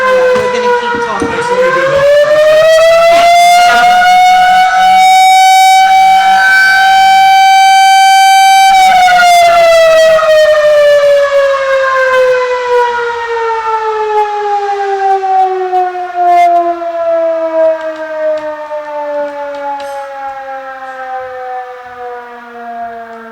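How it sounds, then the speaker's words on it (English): Town fire siren sounding to call out volunteer firefighters, a loud wailing tone that rises, holds steady, then slowly winds down over more than twenty seconds, with faint talk underneath. "That's why we have that siren."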